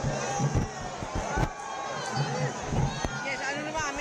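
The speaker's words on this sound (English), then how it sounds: "Pallavi, the crowd swelling?" Dense crowd din at a prime ministerial roadshow in Bengaluru, a steady roar of many voices with shouts and cheers rising over it, loud and continuous throughout.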